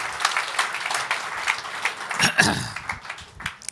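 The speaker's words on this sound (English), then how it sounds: "Can I get a big round of applause if you think this is amazing?" Audience applause at a talk, a dense patter of many hands clapping at moderate loudness, with a brief low vocal sound rising partway through.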